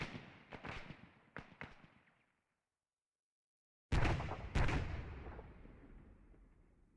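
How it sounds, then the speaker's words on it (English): A satchel charge explodes in a competitive video game match, heard as a loud booming blast followed by rolling debris and reverberation, after an earlier series of smaller pops and a sudden silence. "That was a satchel charge."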